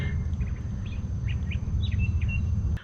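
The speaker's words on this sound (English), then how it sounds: "I hear all the birds, they sound so happy." Faint bird chirps and short tweets scattered over a steady low rumble of wind or traffic, somewhat distant.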